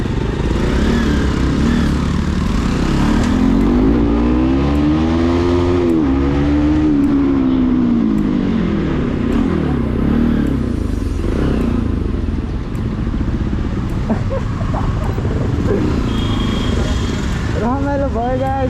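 Sur Ron Light Bee electric dirt bikes racing, with a loud continuous whine that rises and falls in pitch as they speed up and pass, alongside clattering and people talking throughout.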